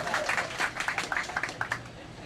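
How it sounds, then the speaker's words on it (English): A comedy show crowd gives a short round of applause, moderately loud, with overlapping claps and voices mixed in, tapering off after about two seconds. "Let's give a round of applause for Doc"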